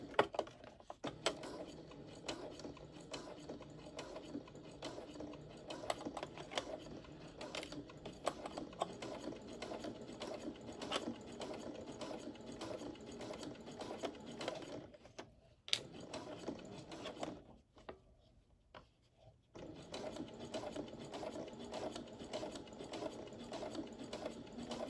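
A sewing machine runs a basting stitch along a fabric seam, a steady close mechanical whir and patter that stops briefly twice before starting again.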